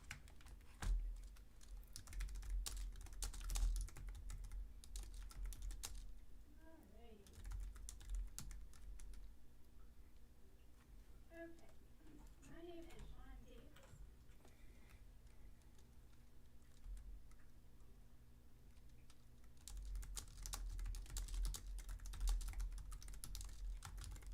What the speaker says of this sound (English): I'm just going to go ahead and type in the box.